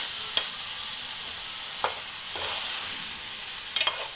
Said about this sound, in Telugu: ఒక 2-3 నిమిషాలు ఇలా కలుపుతూ తిప్పాలండి.